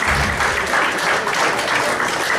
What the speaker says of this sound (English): I would like us all to give them a round of applause